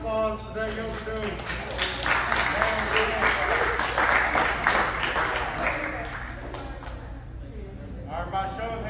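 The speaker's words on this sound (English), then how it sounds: "Everybody give another round of applause for that yoga dude" Applause and cheering from a school assembly audience fill the hall in a sustained, loud wash of clapping, with crowd voices and shouting mixed in.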